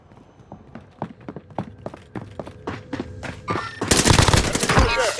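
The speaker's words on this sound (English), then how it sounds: "They're shooting at you!" Gunfire in the video game Call of Duty Warzone on Rebirth Island: a string of sharp single shots spaced through the clip, then a loud, dense burst of rapid automatic fire at the end, with radio-style game voices at times.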